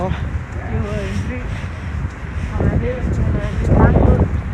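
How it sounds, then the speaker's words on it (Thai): Cold wind gusting across the microphone outdoors during a bicycle ride, a steady rough rumble that swells louder toward the end, with someone talking over it. "โอ้ตอนนี้อากาศหนาวมากค่ะ เย็นลมพัดด้วย"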